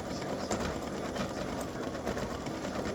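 An embroidery machine stitches an appliqué design with a fast, steady mechanical whir and needle chatter, close and continuous, with no voices.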